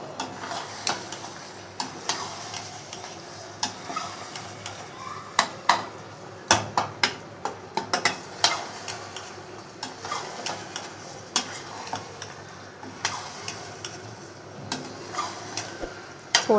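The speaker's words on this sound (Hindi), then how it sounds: "थोड़ा सा भून लेंगे इसे" Pumpkin sabzi frying in a pan while being stirred, a soft continuous sizzle beneath frequent irregular clinks and scrapes of a spoon against the pan, close and fairly quiet.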